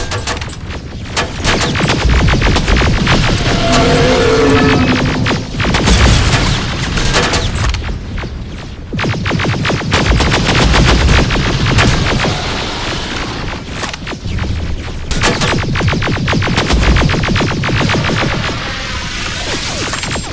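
Sustained, loud gunfire from a Terminator: Resistance firefight against a Terminator, with dense bursts and booming impacts running almost continuously, broken only by brief lulls.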